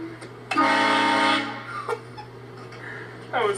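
A loud train horn fitted to a car blares in one sustained honk of about a second, with a shorter blast following later, over street noise and a steady background hum.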